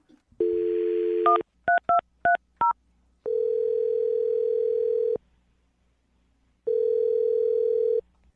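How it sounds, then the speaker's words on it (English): A phone dial tone, then a quick run of touch-tone beeps as a number is keyed, followed by two long ringing tones separated by silence. "I'm going to dial her phone number right now"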